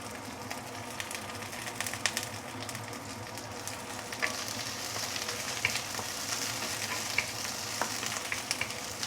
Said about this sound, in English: Once the oil is heated up, we can put in the ginger and also garlic, saute it a bit.